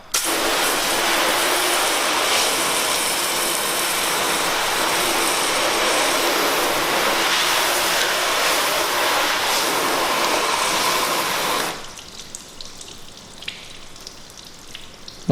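A Ford Focus ST is blasted with a power washer's water spray, a loud steady hissing roar up close that runs unbroken for about twelve seconds, then cuts off to faint dripping and quiet ambience.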